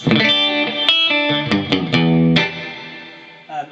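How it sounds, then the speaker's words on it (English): Fender Machete guitar amp playing high-gain distorted chords through its digital reverb, each strummed chord ringing out with a loud wash of reverberant tail that fades near the end. "It is a digital reverb, not spring."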